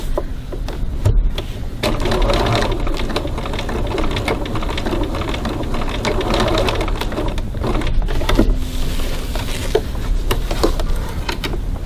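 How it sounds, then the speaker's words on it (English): A sewing machine back stitches a seam on a bag, its close, steady mechanical whir continuing for several seconds, with occasional clicks and a brief lull near the end. "do a little bit of a back stitch there"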